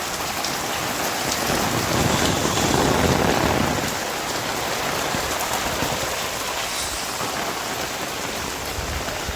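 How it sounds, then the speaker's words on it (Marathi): Steady rain falling in a village with tiled-roof houses, easing after a heavier spell: a dense, continuous close hiss that swells slightly early on, then holds even, with no voices. "मग अशी भरपूर पाऊस आला होता आता कमी पाऊस आला आहे"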